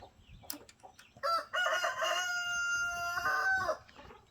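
Chickens in a chicken pen call out, with a few faint clucks leading into a longer drawn-out crowing-style cry, quiet and somewhat distant.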